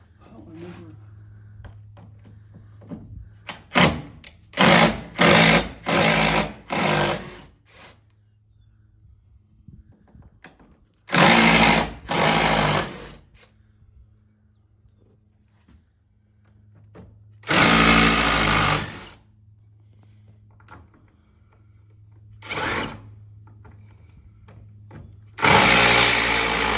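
A power drill whirs in several short bursts of a second or two each, loud and close, separated by quieter stretches with a low steady hum and scattered handling noises.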